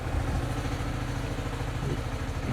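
Tractor engine running steadily under load while winching a hollow-log beehive up into a tree, a continuous close, loud mid-pitched drone with a faint clattering rhythm and no voices.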